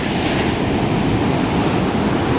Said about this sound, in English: The waves are booming.